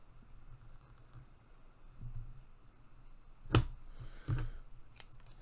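Scissors cut down mailer material in two crisp, close snips about a second apart, preceded by soft handling noise and followed by a fainter click.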